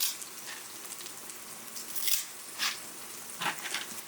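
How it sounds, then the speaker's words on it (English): Soft steady sizzling of onions frying in a pan, with a few brief louder crackles and hisses breaking through the low background. "Onions are frying"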